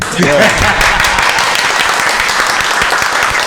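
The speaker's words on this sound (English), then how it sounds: "Let's clap to that." A group claps together during a hip-hop podcast sit-down, with dense, steady applause right after a brief spoken remark and continuing under low chatter.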